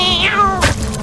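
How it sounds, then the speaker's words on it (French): A single drawn-out cat meow, loud and close, gliding downward in pitch and ending in a short breathy burst, with no talk over it. "Là, il aurait fallu deviner que c'était un chat."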